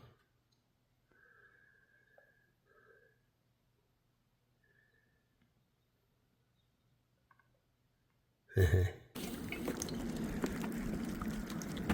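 Near silence with faint scattered sounds, then in the final few seconds a sudden loud rush of Hudson River water churning with broken-up ice chunks, continuing steadily to the end.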